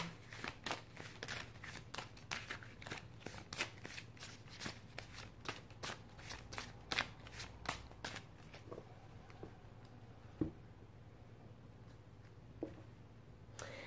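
Tarot cards being shuffled for a reading, a long run of close, rapid riffling slaps and flutters with brief pauses, the pace thinning toward the end.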